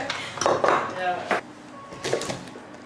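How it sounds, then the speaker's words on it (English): A knife chopping okra on a board in a home kitchen while cooking okra soup, a few uneven knocks and clinks mixed with faint background voices. "now my daughter is going to help me to chop the okra"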